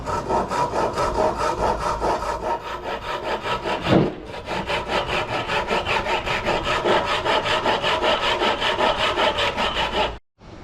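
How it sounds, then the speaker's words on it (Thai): A hand saw cuts wood with fast, even back-and-forth strokes close by. A brief hitch interrupts the strokes, which then continue until they stop near the end. "ผมก็จะใช้เลื่อยมือเหมือนเดิมนะครับ"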